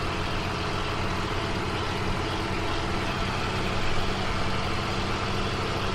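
A Cat truck engine idles in the Farming Simulator 17 video game, a loud, steady, noisy low rumble holding constant throughout with no speech.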